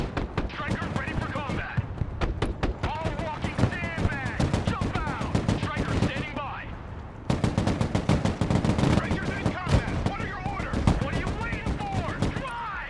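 Rapid bursts of German MG3 machine-gun and G3 rifle fire rattle almost continuously in the Broken Arrow game, dense and loud, with a brief lull midway and someone talking over the shooting.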